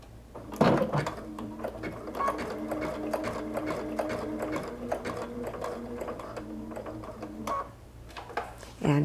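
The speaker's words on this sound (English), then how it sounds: "lower the presser foot down and begin stitching." A home sewing machine stitches steadily for several seconds at a fast, even hum-and-tick pace, then stops, with a soft clunk at the start as the presser foot drops.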